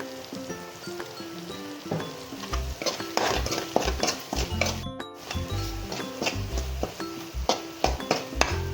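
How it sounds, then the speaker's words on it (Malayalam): Masala with pepper powder being stirred in a pan for egg masala bread snacks: repeated spoon scrapes and metal clinks over a low sizzle, close and fairly loud, with no talking. "കുരുമുളക് പൊടി നല്ലോണം ഇളക്കി കൊടുക്കുക"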